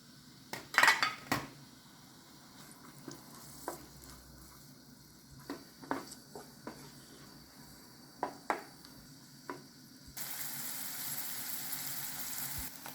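Peppers for Mexican chili beans with Italian pastrami are stirred in a pot, a utensil knocking and clinking against the sides in irregular close taps over a faint sizzle, ending in a louder steady hiss.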